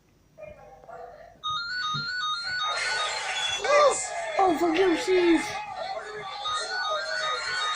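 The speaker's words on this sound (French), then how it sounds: "Désolé pour le téléphone qui sonne." A phone ringtone plays a looping electronic melody indoors during a no-laughing challenge, loud and steady under excited talking and shouting from people close by.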